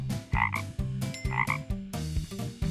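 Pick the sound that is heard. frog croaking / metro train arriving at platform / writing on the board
frog croaking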